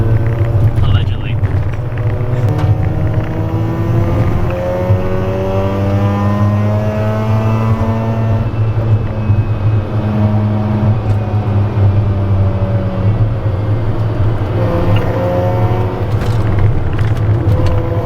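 Mazda RX-8 rotary engine revving hard close to the red line, a loud continuous drone whose pitch climbs repeatedly through the gears, heard from inside the car with a voice speaking over it.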